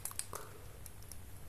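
Small clicky button on a cheap fidget cube pressed a few times, giving faint, sharp plastic clicks close to the microphone over quiet room noise.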